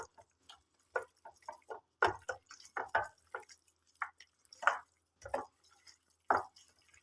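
Chicken wing marinade for crispy zinger wings is mixed by hand in a bowl, making soft, close, irregular wet squelches and squishes separated by short pauses.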